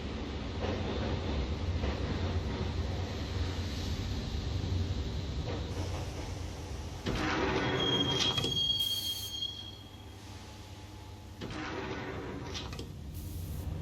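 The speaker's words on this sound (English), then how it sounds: "the train doors had already shut behind me, and I was in for the ride" A subway train in the video game Max Payne rolls along its rails with a steady low rumble and clatter, a sharp wheel squeal cutting in midway, the car's noise shifting as it runs on.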